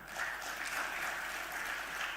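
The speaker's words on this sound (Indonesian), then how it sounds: "Tepuk tangan buat kita." Faint, distant audience applause during a speech by a football federation chief, a soft continuous wash of clapping that holds at an even level for a couple of seconds.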